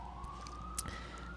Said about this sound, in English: as an ambulance drives by